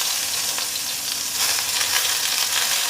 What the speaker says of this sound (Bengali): তেলটা হয়ে গেছে, এখন আমি দিয়ে দেব পেঁয়াজ।